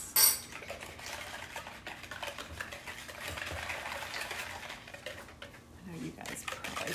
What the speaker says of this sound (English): And then I'm gonna whisk this.